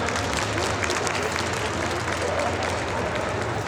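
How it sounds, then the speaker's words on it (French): Audience applause at a cosplay conference panel during the Japan Pop Show in Mons, a dense, continuous burst of clapping from a crowd that fills the whole moment. "Les amis, je vous prie s'il vous plaît d'applaudir Gaël des 10 lunes"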